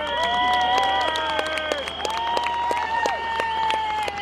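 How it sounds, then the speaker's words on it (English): An audience at a political rally in Dublin breaks into sustained applause, a dense even wash of clapping and some cheering that holds steady throughout, with voices faintly mixed in. "I'd like you all to give them a round of applause."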